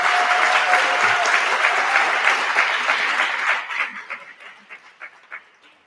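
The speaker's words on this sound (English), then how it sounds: "So let this be the first round of applause of the afternoon for Marie Hardin." A round of applause for Marie Hardin at her dean celebration, a dense sustained clapping crowd that thins out into scattered individual claps over the last couple of seconds.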